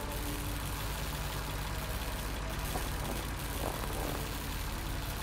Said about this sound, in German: Durch diese Öffnung saugt der Motor des Generators Luft an.